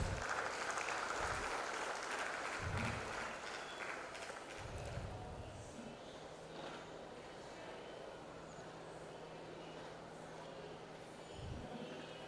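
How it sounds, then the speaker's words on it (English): Faint, distant applause from a crowd at an engineering college orientation day rolls on as a steady wash of clapping, with a few low thumps mixed in. "A round big of applause."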